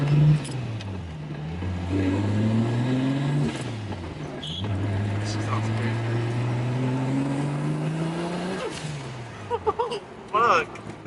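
A turbocharged Nissan S13 with a 2JZ-GTE engine accelerates hard, its engine note climbing through several gear pulls with brief dips at each shift, loud and close, ending in short bursts as it comes off throttle.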